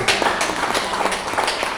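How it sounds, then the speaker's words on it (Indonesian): An audience clapping at a business presentation: a brief, dense patter of hands, fairly close and steady, with no gaps. "Tepuk tangan dulu dong."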